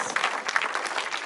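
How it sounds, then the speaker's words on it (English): Audience at a London film premiere applauds for a performer, a dense burst of clapping close by that runs throughout with no speech over it. "Round of applause."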